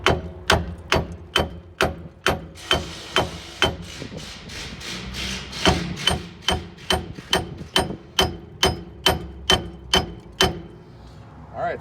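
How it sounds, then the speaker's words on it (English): A steel hammer strikes metal in steady, fairly loud taps, roughly two per second, while knocking out the rear wheel bearing of a 2006 Chrysler Pacifica. "let me go get a hammer. We'll knock this out. All right, let's see if we can give her a few taps."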